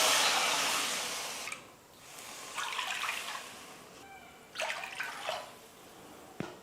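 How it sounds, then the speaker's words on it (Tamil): Three cups of water are poured into a kadai sitting on a stove, a rushing splash that comes in several separate pours with short pauses between them. "மொத்தமாக 3 கப் அளவுக்கு இப்போ நான் தண்ணி சேர்த்துக்க போகிறேன்."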